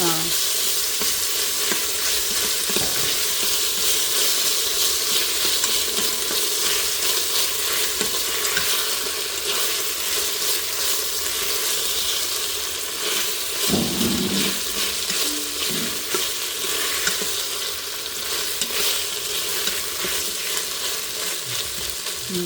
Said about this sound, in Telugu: ఇది ఇంకా మనం పచ్చివాసన అయిపోయేంత వరకు ఫ్రై చేసుకోవడము